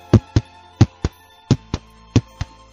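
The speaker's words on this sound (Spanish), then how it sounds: "sintiendo cada latido de su corazón" Four paired heartbeat thumps, a steady lub-dub rhythm, close and distinct against a quiet background.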